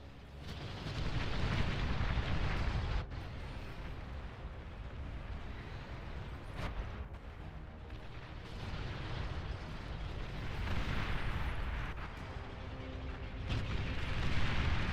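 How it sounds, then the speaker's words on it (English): Rumbling bombing-run explosions in the strategy game Beyond All Reason, a dense, continuous barrage of booms with sharper blasts layered over a low roar, no voices. "Bombing run closes out the game."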